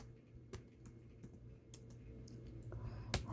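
Quiet, irregular clicks of typing on a computer keyboard, with one sharper tap near the end, over soft background hum.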